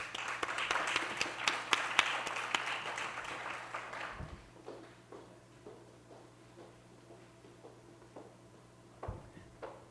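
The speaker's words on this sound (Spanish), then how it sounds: "Recibamos con un fuerte aplauso a nuestro estimado Alex Martínez" An audience at a university talk on sustainability applauds to welcome an architect speaker, with a dense burst of clapping that fades after about four seconds into scattered claps and room noises.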